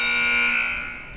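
A basketball buzzer sounds at the end of the half in a men's college game between Queensborough and Hostos CC. It is one loud, sustained electronic blare lasting about a second before trailing off.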